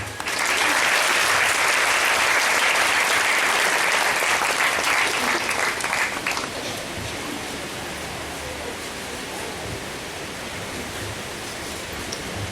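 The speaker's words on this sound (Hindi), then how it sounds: "हम लोग तालियों के साथ हम लोग स्वागत करेंगे भाई सुदर्शन तिगर" A church congregation at a Sunday service applauds to welcome the preacher, with loud dense clapping for about six seconds that then fades into a softer room murmur.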